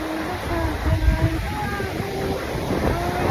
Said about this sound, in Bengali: লাইক কক্সবাজারের মতো ঢেউ আসছে